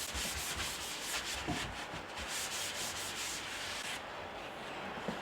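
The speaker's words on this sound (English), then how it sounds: "And then you just get a towel and then you just wipe off the excess." A towel wiping excess grease off a kitchen cupboard, making a continuous close scrubbing rub with repeated swishing strokes, steady and without talk.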